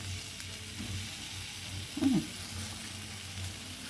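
Ginger paste and crushed turmeric sautéing in hot oil for a mung dal with bottle gourd and bitter gourd, a steady low sizzle with a brief louder stir near the middle.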